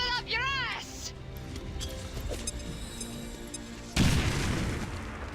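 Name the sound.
grenade explosion in XCOM 2 video game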